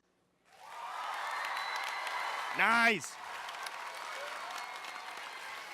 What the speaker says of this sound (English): start with the applause for our judges